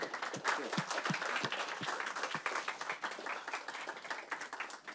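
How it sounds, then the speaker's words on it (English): A seminar audience applauds the speaker after a maritime security talk on East Asia, many hands clapping in a steady, close patter of distinct claps that fades slightly toward the end. "Please join me in giving a round of applause to Mark."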